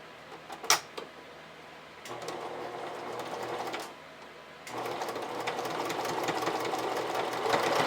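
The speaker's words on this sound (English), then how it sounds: "I'm just basically going to run a zigzag stitch along the top and then again along my stitching line" A sewing machine runs a zigzag stitch along the top edge of a camisole, with a sharp click at the start and then two steady stretches of whirring stitching separated by a short pause, fairly quiet and with no voices.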